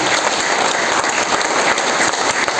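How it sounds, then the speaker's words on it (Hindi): Sustained applause from an audience at a business leadership seminar, dense steady clapping filling the whole stretch at loud, even volume with no talk over it. "तो हम सबकी अपलाइनों के लिए एक बार ताली तो होनी चाहिए भाई"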